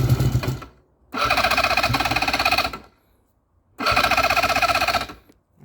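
A restored Moto Guzzi 254 motorcycle engine cranks and fires in two loud bursts of rapid, buzzing mechanical running, each lasting under two seconds and separated by a pause, with a short burst before them.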